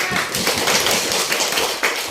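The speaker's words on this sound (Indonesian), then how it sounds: "tepuk tangan untuk kelompok 4" A class of students applauds a presenting group in a university teacher-training session, with dense, steady clapping throughout, close and fairly loud.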